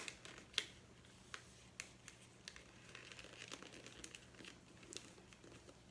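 Wrapping paper being folded inward around a present, giving soft, close crinkles and sharp paper creases in scattered bursts, with a quiet room behind and no talking.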